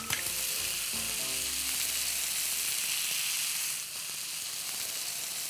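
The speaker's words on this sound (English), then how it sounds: "Our egg mixture is going in." Egg mixture hits a hot wok with a loud, steady sizzle and hiss that stays continuous throughout, with a brief clatter at the start.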